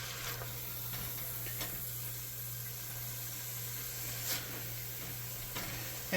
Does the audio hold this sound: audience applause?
no